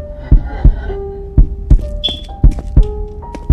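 Regular low thumping heartbeat pulses, about two per second with a brief pause, over a soft droning hum and faint tones.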